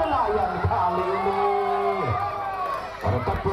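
A crowd at a Proliga volleyball match cheers, whoops and shouts, with loud swells of voices and some applause in a large indoor arena.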